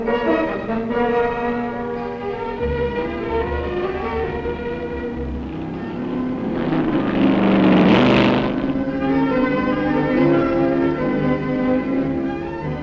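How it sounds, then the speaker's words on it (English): A 1963 Ford race car climbs the Pikes Peak hill climb, its engine droning with steady harmonic tone that swells louder as the car passes, then eases off again. "Jeff Tosser from Boulder, Colorado makes his climb in a 1963 Ford."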